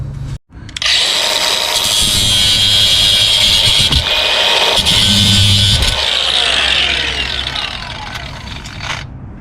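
A power tool cuts through the brake shoe springs on the drum brakes of a 1990 Nissan D21 Hardbody. After a brief start it runs as a loud, steady, high-pitched whine close by for about nine seconds.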